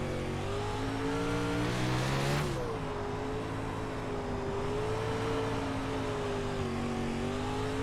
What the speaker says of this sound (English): But you can see, just working the throttle.